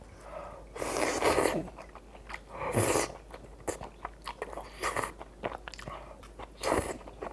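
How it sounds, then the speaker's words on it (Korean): Close, crunchy chewing of stir-fried small octopus comes in several bursts with short pauses between them, and faint small mouth sounds fill the gaps. No one talks. "소리 들리죠 지금 씹는 소리"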